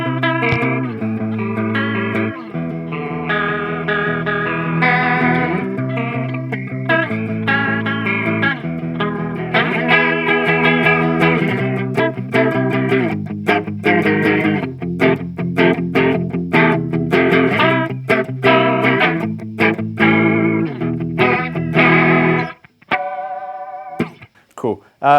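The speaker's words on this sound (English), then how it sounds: "let's make it a little bit more wacky now with a honky tonk style sound" An electric guitar played through an Akai Analog Custom Shop pedal gives a wobbly, honky-tonk style tone, a steady run of twangy chorused notes and chords, loud and close, that breaks off near the end.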